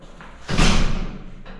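An apartment door in a new social-housing block swings shut with one muffled thud and a brief rattling tail, close and alone.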